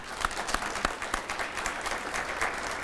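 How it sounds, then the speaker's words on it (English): An audience at a regional economic-future event in Carroll County applauds, steady clapping from a crowd with sharp individual claps standing out, sustained for a few seconds. "Give them a round of applause."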